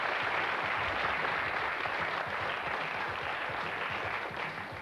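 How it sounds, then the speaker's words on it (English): Studio audience applause on the BBC television quiz show Going for Gold in 1989, a broad, continuous wash of clapping that stays even and slightly distant before easing a little at the end, with a faint tonal hum beneath. "Give him a warm round of applause, please."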